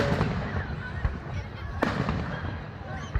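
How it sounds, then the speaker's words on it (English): Fireworks burst repeatedly on a Fourth of July night, sharp cracks standing out over a constant rumble of distant explosions, with a few people talking and reacting underneath. "We're gonna hear fireworks for the rest of this night until we get home, Sophie."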